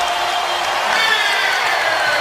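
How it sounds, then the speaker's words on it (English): Basketball arena crowd at a 2012 playoff Game 7 between the Sixers and Celtics, a steady roaring cheer with whoops that swells slightly midway, loud and continuous throughout. "That gets the crowd going as well."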